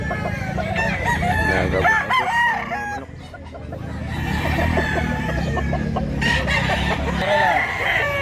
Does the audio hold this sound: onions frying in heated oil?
no